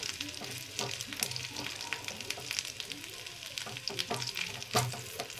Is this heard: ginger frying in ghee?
yes